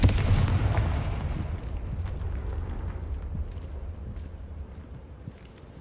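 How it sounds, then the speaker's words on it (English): A Confringo explosion spell from the video game Hogwarts Legacy erupts in a loud, booming blast. A long rumbling roar follows and slowly fades over several seconds, with no voices. "Confringo."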